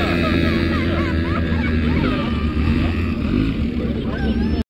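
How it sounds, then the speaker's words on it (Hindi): Loud off-road bike engines rev and drone continuously on red sand, with shifting pitch as bikes pass nearby, while voices chatter faintly underneath. "यहाँ पे गाड़ी सबका बहुत ज्यादा ही साउंड आ रहा है"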